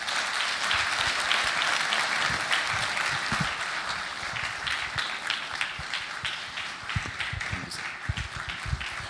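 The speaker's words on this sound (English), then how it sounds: "Please keep the applause coming for" Sustained loud applause from a conference opening-ceremony audience for an honorable minister, dense steady clapping that holds throughout with a few sharper claps standing out near the end.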